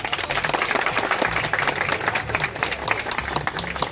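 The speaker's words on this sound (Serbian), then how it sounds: "na svakih 10 veliki aplauz" A crowd at a men's physique bodybuilding competition claps loudly and continuously, a dense, sustained burst of applause filling the space, with no one talking.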